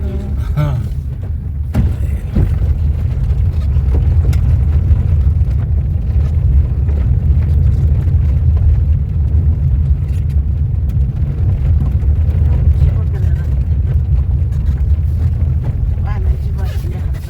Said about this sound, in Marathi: अरे पाण्याचं टँकर आहे